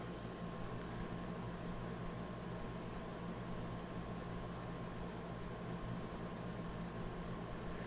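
A room air conditioner runs close by with a steady, even hum and broadband hiss, unchanging over the whole stretch and with no voices.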